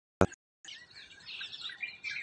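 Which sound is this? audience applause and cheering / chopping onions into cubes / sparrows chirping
sparrows chirping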